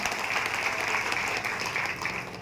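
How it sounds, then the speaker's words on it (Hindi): Dense, steady applause from an audience at a youth dialogue event in Lakhisarai, Bihar, welcoming guests on stage. It fills the room without a break, with no voices standing out. "आप सभी के लिए एक बार जबरदस्त तालियों से"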